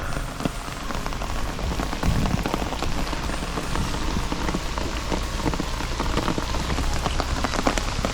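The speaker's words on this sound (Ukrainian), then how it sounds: "Під такий дощ тільки окунь можуть брати." Steady rain pours down during a summer fishing trip, pattering densely and evenly on surfaces close by with no voices over it.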